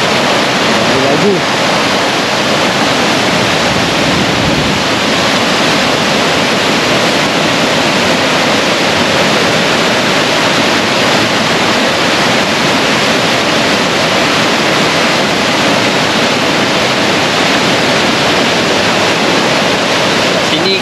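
Loud, continuous roar of floodwater surging after heavy rain, broadband and steady throughout, close and overwhelming with no pauses.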